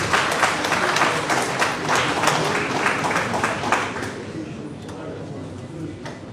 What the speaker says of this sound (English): Can we please give him a hand of applause?